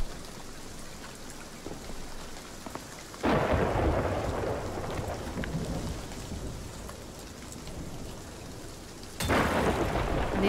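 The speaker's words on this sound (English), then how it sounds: "It needs to stop raining." Rain and thunder in the pirate video game Sea of Thieves: a steady hiss of heavy rain with deep rumbling thunder, swelling into louder crashes around three seconds in and again near the end, with no talking.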